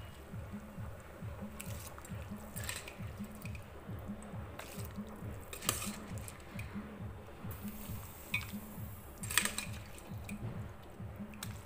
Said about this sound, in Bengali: এখানে জলটা আমার ভালোভাবে ফুটে গেছে, এর মধ্যে আমি ভেজানো চালটা দিয়ে দিচ্ছি।